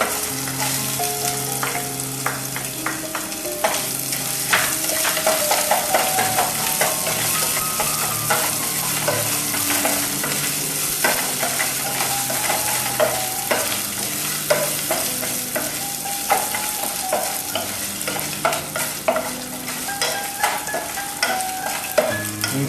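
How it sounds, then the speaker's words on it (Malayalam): Ginger and green chilies sizzle continuously in a frying pan while a spatula stirs and scrapes in quick irregular strokes, close up, with a faint tonal backing underneath throughout. "നല്ലപോലെ ഒന്ന് ഇളക്കി കൊടുക്കുക"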